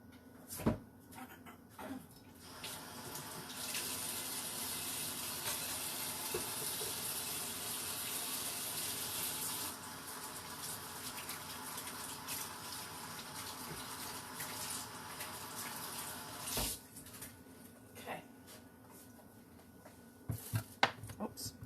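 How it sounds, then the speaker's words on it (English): A Granny Smith apple is rinsed under a running kitchen tap, giving a steady broadband gush of water that holds for about six seconds, then thins out, with brief clunks and handling noises at the start and end. "And I'm going to wash this apple real"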